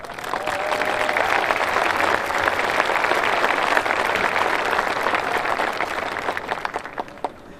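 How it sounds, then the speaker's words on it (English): Graduates and guests at a university commencement ceremony clapping together, a dense, steady round of applause held loud for several seconds before thinning out at the end. "Now give yourselves, your fellow peers, and those sitting next to you a round of applause."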